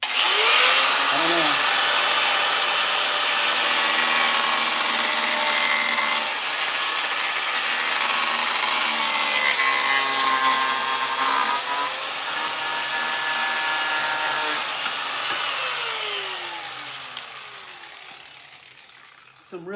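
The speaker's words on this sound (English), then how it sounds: "So do I use the grinder for wood? You're damn right I do." An angle grinder is cutting bamboo wood in a barn, giving a loud, steady high whine that runs almost nonstop and fades out near the end, with a brief spoken remark over it.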